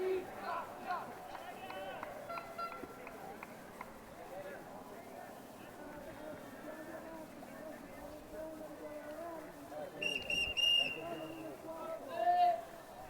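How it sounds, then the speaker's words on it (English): Crowd murmur and commentary-like talk fill the background at an under-17 ultimate frisbee match, Sweden versus Italy, then a sharp high referee whistle blast sounds near the end, followed by a shorter one. "Whistle goes"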